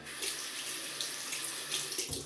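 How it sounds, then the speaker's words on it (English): A double-edge safety razor, a red and black Bakelite Merkur, is rinsed under a running tap, giving a steady close hiss of flowing water and splashing that continues throughout with no talking. "And keeping it rinsed, it keeps clean."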